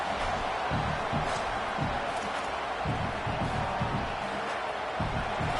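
Dense stadium crowd roar at a football game on a 4th-and-short in field goal range, a steady loud wash of many voices with no break.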